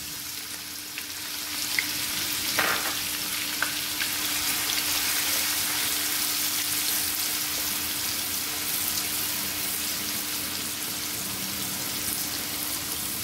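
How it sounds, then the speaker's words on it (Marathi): Onions frying in hot oil with a few mustard seeds in a kadhai, a dense continuous sizzle close by with occasional small pops and light stirring, steady throughout with no talking. "आता हा मी जो कांदा सांगितलाय तो आपण त्याच्यात सगळा घालू."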